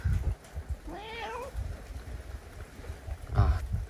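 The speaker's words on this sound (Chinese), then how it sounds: "这里还有一只野猫" Thin stray cat on a Maldives island being fed fish, giving two short rising meows, close by, with rustling and soft thuds around it.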